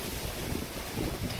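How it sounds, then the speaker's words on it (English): Strong Category 5 Hurricane Dorian wind buffets the microphone in a constant roaring rush, with heavy gusts surging through and no voices. "It's extremely windy, very strong gusts, as you can hear."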